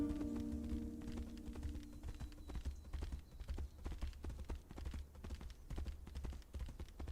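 Horse hooves clip-clop in a quick, even rhythm while riding in the video game Tainted Grail: Fall of Avalon, faint and continuous under a low ambient hum, with no talking.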